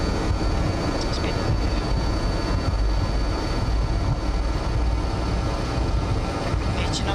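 Engines of a BAe 146-300 airliner on the takeoff roll, heard from the cockpit as a loud, steady broadband roar with a constant high whine, with brief cockpit voices over it.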